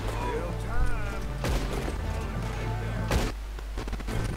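Gunfire in Red Dead Redemption 2 during a shootout at a camp: several sharp bursts of shots ring out at intervals over game music and ambience, with a voice talking between them.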